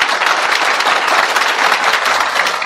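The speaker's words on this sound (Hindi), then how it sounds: "तो एक बार अपने लिए फिर एक बार खूब प्यारी ताली।" A dense crowd at a sales training session bursts into loud, sustained applause, many hands clapping at once for nearly three seconds without pause, filling the room with no speech over it.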